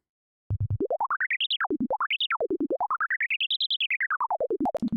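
A Serum FM synthesizer sine patch repeats in rapid, even pulses while its pitch sweeps up and down in smooth arcs, with a bright, electronic, bouncy character.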